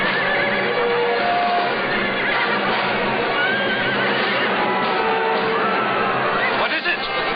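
Horses neigh and whinny amid voices and crowd chatter in an epic period scene, with several high, drawn-out calls heard through dense, muffled background sound.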